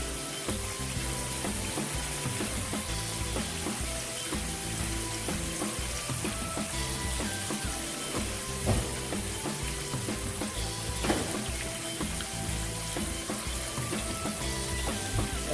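A big snapper fries in hot oil in a large pan, giving a loud, dense, continuous sizzle and crackle that stays steady throughout, heard close up with no speech.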